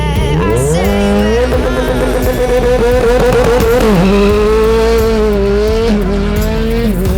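Race car launching hard off the line, a loud engine climbing and holding high revs through gear changes, with tire squeal, close and continuous with no talk.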